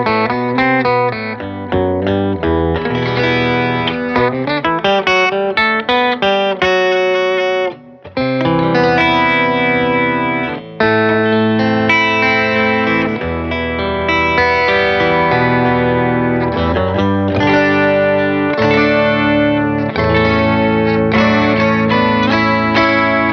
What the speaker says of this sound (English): I kind of stuck with the twang on that track. And that was just a lot of this bridge pickup.